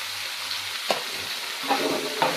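Brinjal pieces with turmeric and salt are stirred in a frying pan for Andhra-style curry, with a low steady sizzle broken by a few distinct spatula scrapes and knocks, close and without voices.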